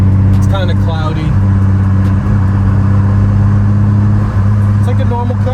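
A turbocharged BMW E36 with an M52 engine and 8HP automatic cruises smoothly, giving a steady low engine drone with even harmonics under someone talking inside the car.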